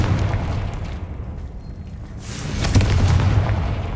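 A Confringo blasting spell goes off in the Hogwarts Legacy video game with a deep rumbling boom, fading into a quieter lull before a second heavy, rumbling blast swells up.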